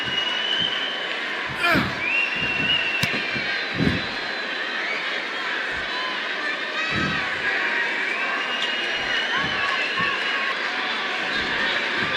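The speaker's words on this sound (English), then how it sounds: "this capacity crowd is on its feet right now." A capacity arena crowd roars steadily throughout a one-on-one championship match in the WWE 2K18 wrestling game, a dense sustained cheer with a few sharp spikes, while a commentator talks over it.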